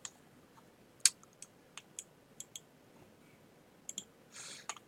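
A computer mouse gives sharp, close clicks, about a dozen scattered irregularly over a quiet background, with one faint rustle near the end.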